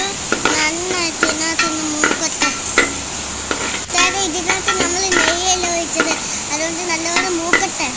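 Onion and carrot fry in ghee for upma, with a steady sizzle and repeated scraping strokes of a spoon stirring the pan while someone talks throughout.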